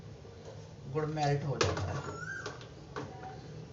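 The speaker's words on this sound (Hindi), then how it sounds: "ये देखो आवाज आ रही है, कोयल कूक रही है।" An Asian koel calls faintly in the background with brief rising tonal notes, heard under someone talking nearby in a home kitchen setting.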